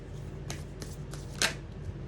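Tarot cards being shuffled, giving several soft riffling bursts and a brief crisp flutter at close range, fairly quiet and with no speech.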